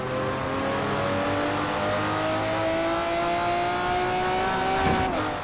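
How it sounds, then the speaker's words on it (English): A BMW M4 GTS engine in Forza Horizon 4 holds a steady, droning tone that climbs slowly in pitch, with tyre noise underneath, ending in a brief burst of louder sound near the end. "The BMW M4 GTS, that sounds alright."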